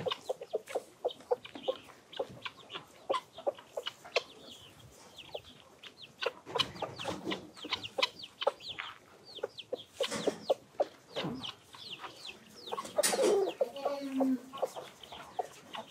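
Chickens on a small village farm in Bayramiç, Türkiye cluck steadily through feeding time with wheat, a busy flock of short calls overlapping near and far, with a few louder squawks standing out, and no voices.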